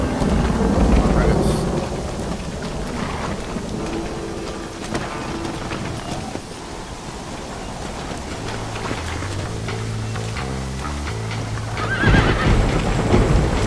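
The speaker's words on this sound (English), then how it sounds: "Come on, horses are over here." Horses in the video game Red Dead Redemption whinny and clop their hooves amid a rumbling thunderstorm and rain, with steady game music underneath throughout.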